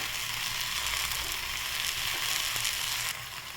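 Eggplant sautéed in a pan with salt gives off a steady, fairly loud sizzle and hiss that runs unbroken on its own, dropping slightly in level near the end.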